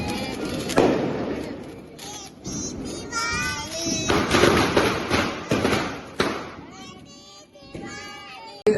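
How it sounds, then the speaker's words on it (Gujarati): Firecrackers and fountain fireworks burst in several sharp, loud bangs spaced seconds apart, among children's excited voices and chatter. "ફટાકડા ફોડી લીધા"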